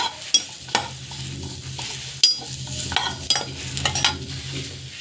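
Dates sauté in a hot pan with a spoon scraping and stirring, giving uneven bursts of scraping and clinks over a steady low sizzle.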